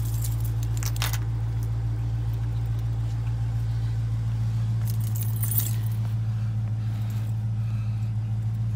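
Keys jangling in a few brief, faint bursts near a parked car, over a steady low hum of an idling engine.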